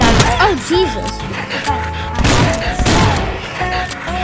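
Cartoonish gunfire in the game Swamp Attack as a turtle is shot, quick bursts of shots and thuds mixed with chirpy game effects and music tones, with a person talking over part of it.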